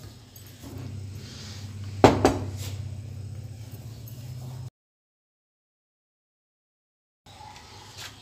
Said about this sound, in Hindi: अब इन सब चीज़ों को अच्छे से मिक्स कर लेंगे।